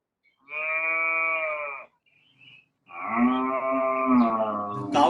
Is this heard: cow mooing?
yes